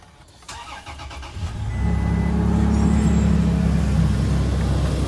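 A gasoline car engine cranks briefly in freezing cold, then catches and settles into a steady, loud idle rumble that continues to the end.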